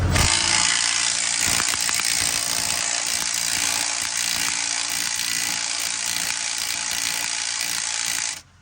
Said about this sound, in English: see how the nut's staying in when I'm winding it off